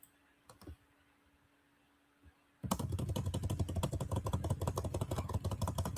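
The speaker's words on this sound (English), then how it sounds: "I'm just typing in a bunch of letters." Fingers rattle rapidly across a computer keyboard, a dense steady run of close clicks after a couple of faint taps and a quiet pause.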